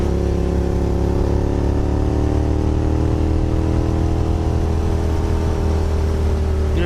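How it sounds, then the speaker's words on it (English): Motorcycle engine held in a steady, loud drone with its pitch climbing slowly, heard close and continuous without a break, in a riding lesson on rev-matched downshifts. "you want to try to throttle or rev match your downshift, which I'll show you here in just a second"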